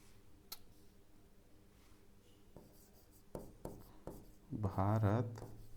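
Several scattered taps and short strokes of writing on a board during a classroom lesson, faint and close, followed by a teacher's voice speaking over the last part.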